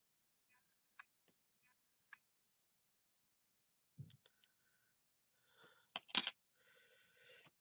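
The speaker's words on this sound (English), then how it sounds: "there's a wee extra loose bit of string and tulle there that I'm just trimming away" Scissors trimming loose string and tulle from a shabby butterfly craft tag: a few faint, sparse clicks and snips with long quiet gaps, then a short cluster of sharper snips near the end.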